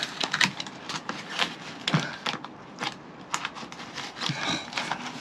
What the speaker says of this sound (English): All we do is take the knife and we cut it